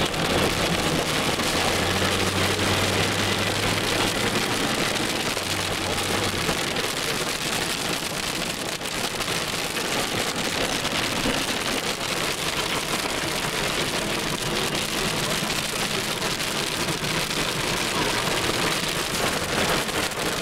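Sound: hail falling

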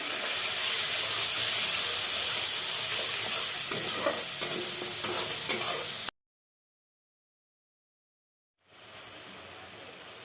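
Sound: stirring turmeric and Kashmiri chili powder in a pan

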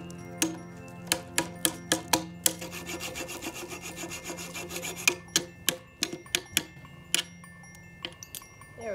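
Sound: hacksaw cutting through a bolt

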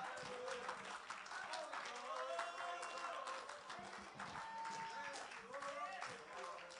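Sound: congregation clapping hands in praise

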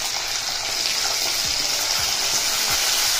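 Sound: raw banana pieces frying in tempering

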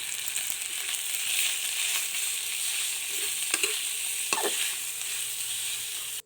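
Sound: stir-frying pork with red curry paste in a pan

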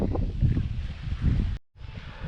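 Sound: strong wind at mountain campsite

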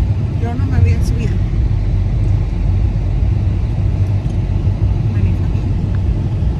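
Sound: car driving with passengers inside

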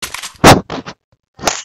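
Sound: pistol gunshot in a video game

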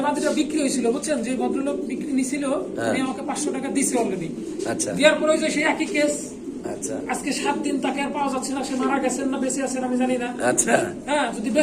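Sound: white Bombay pigeons cooing

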